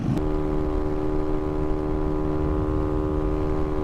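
A Honda Navi minibike with a big bore kit runs at speed at high revs, giving a steady, loud, sustained engine drone with a constant pitch and no talk.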